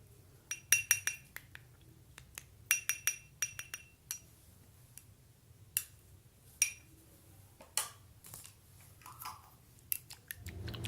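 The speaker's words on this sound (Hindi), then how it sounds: "आपको इसे फोक से मिक्स करना है अच्छे से" Fork clinking against a bowl while mixing potato juice, aloe vera gel and honey, with sharp metallic taps in irregular bursts, close and clear with no talking.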